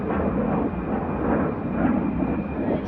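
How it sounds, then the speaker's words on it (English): Military jets such as F-15 Eagles and F-35 Lightnings taxi at RAF Lakenheath, heard from a distance. A continuous low engine rumble rises and falls gently, with no voices. "I can hear stuff taxiing about"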